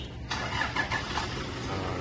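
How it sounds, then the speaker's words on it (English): A 2015 Toyota car engine cranks and catches via remote start, settling into a steady close idle that hums continuously after the brief starting burst. "remote engine start"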